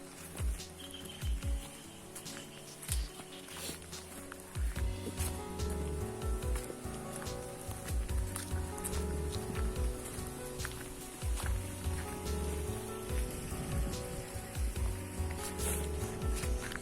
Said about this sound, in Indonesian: Karena udah hujan rintik-rintik